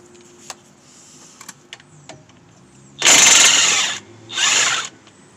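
Ratchet wrench spinning out 13 mm bolts on Dodge Ram front brakes, two loud close bursts of rapid clicking after quiet handling taps.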